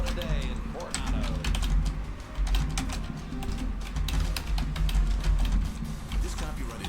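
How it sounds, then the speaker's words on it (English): Rapid keyboard typing clicks away, close and steady, beneath a busy broadcast-booth background of talk and low rumble during coverage of an Anduril 250 race in Coronado. "that's why you're hearing the typing"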